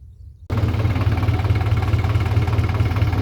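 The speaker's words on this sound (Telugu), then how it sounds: "గట్టుని ట్రాక్టర్ ముందు టైర్ తోటి ఇలా తొక్కడం మొదలుపెట్టాను" A tractor engine starts up and runs at a steady, deep, throbbing idle, loud and close after a brief quiet beginning, with a constant low rumble and no voices.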